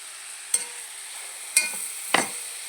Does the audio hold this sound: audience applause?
no